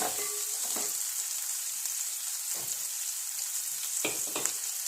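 Dried red chillies frying in hot oil in a pan for a Kerala-style coconut, curd and cumin curry, a steady close crackling sizzle with a few spoon clinks, no talk.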